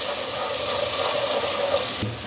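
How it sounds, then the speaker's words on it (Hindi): Water is poured into a cooking pan of browned onions and rushes in as a steady, loud, close splash that runs for about two seconds, then stops. "अब इसमें थोड़ा सा पानी डाल दें ताकि इसका कुकिंग प्रोसेस यहीं पर रुक जाए"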